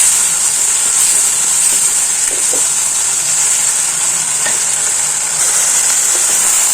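Vegetables sautéing with rock salt in a pan for a chicken gravy, giving a steady, close sizzling hiss throughout with a few faint stirring clicks and no talking.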